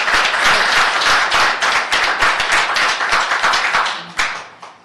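Audience applauding at a city homelessness and poverty committee meeting, a loud, steady round of many hands clapping that tapers off near the end with a few last claps.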